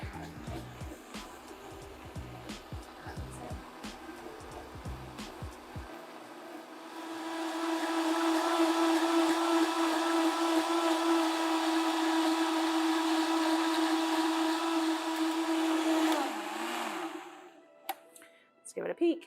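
A kitchen blender starts on low and ramps up while puréeing tomato soup with added oil. Faint earlier clatter gives way to a loud, steady whirring motor hum that runs for about ten seconds and then cuts off with a few clunks.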